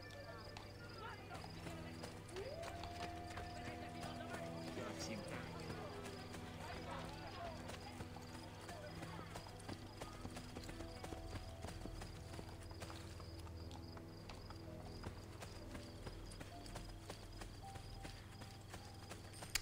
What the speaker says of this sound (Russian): Какая-то проблема с лошадью.